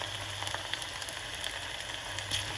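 Small amounts of marinated chicken pakodi batter frying in hot oil give a steady, close crackling sizzle with fine popping throughout and no voices.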